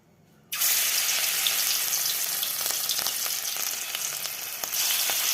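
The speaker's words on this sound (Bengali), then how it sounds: "তেলের বড়াটাই আগে ভেজে নিচ্ছি" Fish-oil fritters made with onion, gram flour, turmeric and salt sizzle loudly in hot oil, a dense steady frying hiss starting abruptly and continuing alone with faint clinks.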